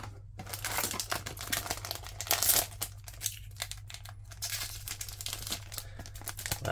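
Foil Weiss Schwarz Sword Art Online 10th Anniversary English Edition booster packs being torn open, a steady close crinkling and tearing of foil wrappers with sharp bursts throughout, no talking.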